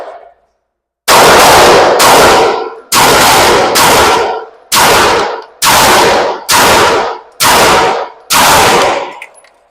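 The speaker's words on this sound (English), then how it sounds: "shooting efficiently, but I'm shooting at super precise targets." Pistol shots fired rapidly at targets on a range: eight loud, sharp reports in quick succession, a few strings spaced about a second apart, with no talk.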